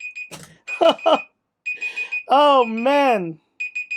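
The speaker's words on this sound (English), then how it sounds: "let's turn off this annoying alarm" An annoying alarm goes off in loud, repeated electronic beeps in short bursts, while a person groans and exclaims over it.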